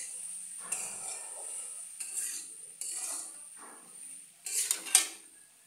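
A spoon scrapes and clinks against a pot while jackfruit curry is stirred and sautéed, producing soft, irregular metallic scrapes and taps with quiet gaps between them and one louder clatter near the end.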